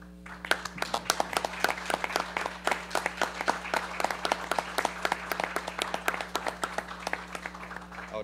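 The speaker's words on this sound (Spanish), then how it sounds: "Así que los invito a ponerse de pie y a recibir esto con un fuerte aplauso" A room full of people stands and claps in a long, steady ovation for Costa Rican football, dense overlapping hand claps sustained evenly throughout, with a low constant hum beneath.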